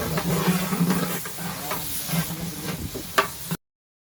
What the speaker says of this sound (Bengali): এখানে তেল পেঁয়াজ মরিচ বিভিন্ন ধরনের মশলা হলুদের গুঁড়া মরিচের গুঁড়া দিয়ে কষে নেওয়া হচ্ছে